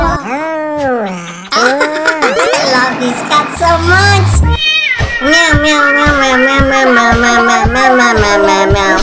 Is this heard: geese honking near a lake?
no